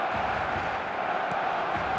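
Stadium crowd cheering in an eFootball video game match, a loud, even roar of many voices with scattered shouts, continuous across the short stretch.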